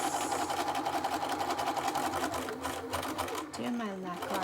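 A sewing machine stitching straps across a dress, a loud, close rapid hum of needle strokes running steadily, dipping briefly, with a voice talking over the end.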